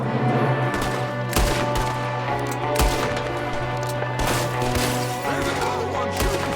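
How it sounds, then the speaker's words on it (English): Gunfire in the video game Red Dead Redemption 2 cracks out as a string of loud shots over a steady low game hum and music, some overlapping in quick bursts. "There's another one shooting from the window."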